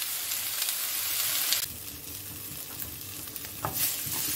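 Bell peppers frying in a little oil for an herbed chicken salad: a steady, close sizzle with stirring through most of the clip.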